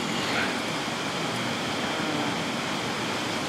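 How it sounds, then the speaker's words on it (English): Water sloshing inside a titanium camping pot as it is lifted, a steady soft broadband wash close by with no voices. "I pick it up and you can hear shh as the water sloshing around."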